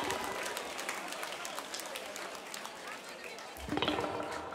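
A live concert crowd at Santeria in Milan claps for a merchandise helper; scattered applause and cheering, fairly faint, with a louder burst of sound near the end.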